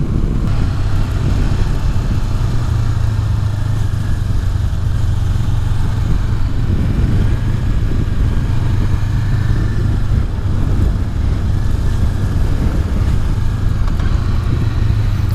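A 2018 Honda CB500X motorcycle engine pulls in top gear on a roll-on, a loud, steady, near drone with a low hum and wind rush throughout, no voices.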